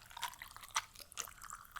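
Water trickling over crushed ice in a container, quiet close-up drips and light crackling splashes arriving in a few irregular bursts.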